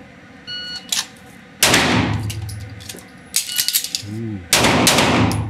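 Sig Sauer pistol shots fired during a shooting drill: several loud, sharp cracks spaced over a few seconds, each with a ringing tail, plus clanks and metallic handling between shots.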